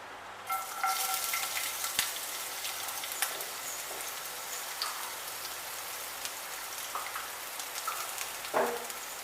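Chopped garlic and ginger tossed into hot oil for chicken cutlets, crackling and sizzling steadily up close, with a few louder pops and scrapes as the pieces are stirred in the pan, no voices.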